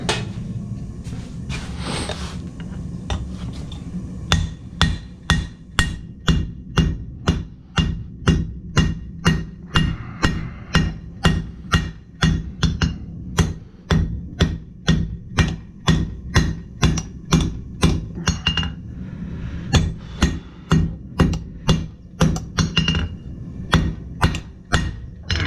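A blacksmith hammers hot metal into a square shape, sharp metallic strikes repeating steadily about twice a second for over twenty seconds, loud and close over a low background hum.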